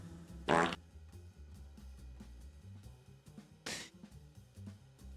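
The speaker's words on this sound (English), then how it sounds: "You forgot the fart noise" Two short, buzzy fart sound effects burst out over quiet background music during a livestream, the first loud and brief, the second a moment later and slightly softer.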